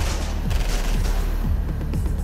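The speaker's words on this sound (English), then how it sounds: "The guns are blazing." Automatic gunfire rakes a car in a close-range attack, a loud rapid fusillade of shots cracking in quick succession over a dense, continuous roar.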